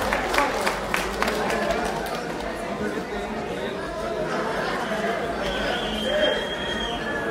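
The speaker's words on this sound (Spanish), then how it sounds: "Un aplauso para este joven, Rodrigo Reséndiz," A live audience applauds a young man being introduced at an event, with clapping rising at the start and blending into steady crowd chatter and voices throughout.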